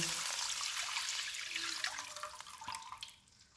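A gush of water pours steadily at close range into cooking spices for fish pulao, hissing and splashing, then slows to a trickle and a few gurgles as it finishes.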